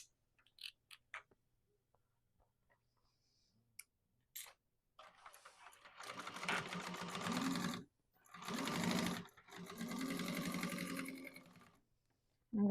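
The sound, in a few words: sewing machine top stitching finished edges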